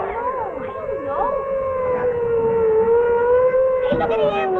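An ambulance siren wails in long rising and falling sweeps, steady and prominent, with voices talking over it.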